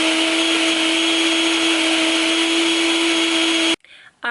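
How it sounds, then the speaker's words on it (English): A NutriBullet blender whirs steadily while blending a homemade hair oil mixture, a loud, even motor drone that cuts off abruptly near the end. "you just want to blend all of your ingredients together in a NutriBullet or a blender."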